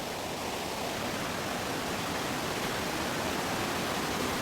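Casaroro waterfall in Valencia, Negros Oriental, heard as a dense, steady roar of falling water, loud and unbroken throughout with no other sounds.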